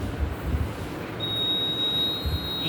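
A device's alarm buzzer goes off at the ninety percent mark, a thin, steady high tone starting partway through and holding over low background rumble and a few soft thumps.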